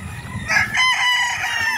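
Broodcock roosters crow loudly and close by, one drawn-out cock-a-doodle-doo rising over low clucking and farmyard murmur.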